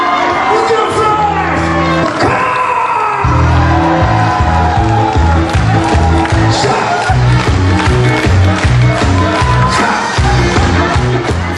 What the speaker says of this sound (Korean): 침울했던 시장은 흥겨운 음악과 사람들의 환호로 넘쳤습니다.